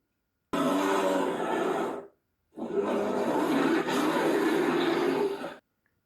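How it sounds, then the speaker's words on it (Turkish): A bear growls in two long, loud, rough roaring bursts separated by a short silence, sounding close and harsh, used in a children's animal-sound segment. "ayının sesini dinledik"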